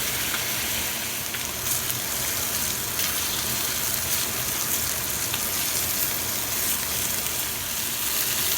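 Steak fat edge pressed down and searing in a hot pan, a steady dense sizzle that hisses continuously without pause.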